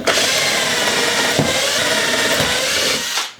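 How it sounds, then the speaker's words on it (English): A power drill whines steadily as it bores into wood, loud and close, with a brief catch near the middle before the motor winds down. "I'll pre-drill a hole for the hook"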